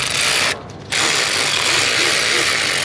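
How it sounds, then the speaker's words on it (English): Hand ratchet cranking a bolt on the high pressure oil pump of a 7.3 engine: a loud, close, continuous clicking rasp that breaks off briefly for a short pause, then resumes. "I'm gonna ratchet"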